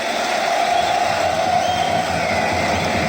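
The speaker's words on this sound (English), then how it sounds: "with this crowd stacking the A-Core arena to the brim" A huge esports arena crowd at the Blast TV Paris Major grand final of Counter-Strike, Vitality against GamerLegion, makes a steady, dense roar of cheering and shouting that holds at an even, loud level throughout.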